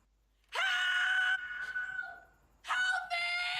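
A scream from the video game The Gallery, a loud, sustained shrill cry that breaks off and then returns in a second long burst, close and dominant.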